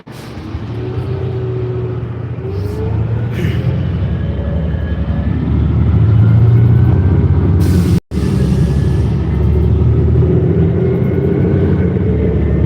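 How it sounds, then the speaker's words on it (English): A city bus near San Diego State University idles and pulls up, its engine rumbling loud and close, rising in strength before a sharp hiss-like release and cutoff, then the engine continues. "I'm going to pause the video to get on this bus"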